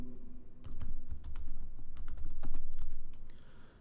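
Close keystrokes on a computer keyboard as a short word is typed, a quick irregular burst of crisp key clicks with no talking.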